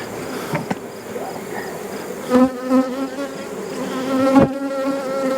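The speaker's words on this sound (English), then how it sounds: "Yeah, those are dark bees. So that's mostly the Carniolan Caucasian." Dark Carniolan-Caucasian honey bees buzz continuously around an opened hive during a late-summer colony inspection, a dense close drone with individual bees passing near and louder moments, and no talk.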